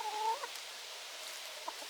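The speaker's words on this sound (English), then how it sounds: "Silly chickens." Backyard chickens give a few short, close clucks and soft murmurs over about two seconds, with no talk.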